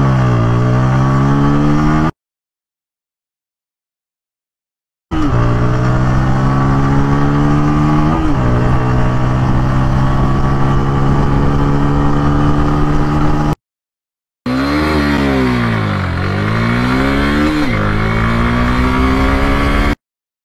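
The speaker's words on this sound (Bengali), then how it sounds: "পালসার N160 60 স্পিড গেইন করতে সময় লাগছে" A Bajaj Pulsar N160 motorcycle accelerates hard in a speed test, its loud engine whine climbing in pitch through the gears across several runs separated by abrupt silent gaps.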